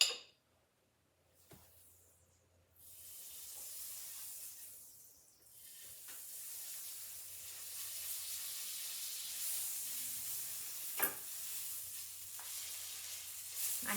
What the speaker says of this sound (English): our griddle is at 350 degrees. I have a little bit of butter here.